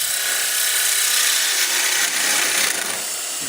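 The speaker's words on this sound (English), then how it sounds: "Now we'll switch to my 1/2-inch Thompson spindle roughing gouge" A half-inch Thompson spindle roughing gouge cuts a small wooden ornament spinning on a wood lathe, giving a steady, close, fairly loud hissing scrape that runs without a break and has no talk over it.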